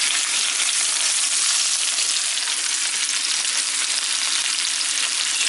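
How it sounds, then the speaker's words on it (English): Beef frying and browning in a hot frying pan, a loud, steady close sizzle that fills the whole clip without pause or speech. "I'm going to fry this up and brown it."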